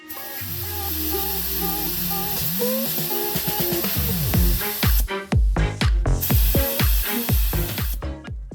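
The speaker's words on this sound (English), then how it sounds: "now I'm gonna use the side button to deflate the tire till I have a tire pressure of 2 bars" Air hisses steadily from a KTM 1290 motorcycle tyre as a mini tyre compressor deflates it, loud and close, then breaks into a rapid series of short sputtering bursts toward the end.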